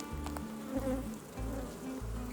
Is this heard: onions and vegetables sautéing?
no